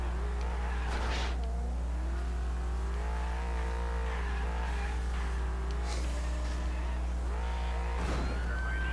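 Steady police car engine drone in a video game that rises and falls as it revs, with a few brief skids or scrapes, continuous and fairly loud, no talking.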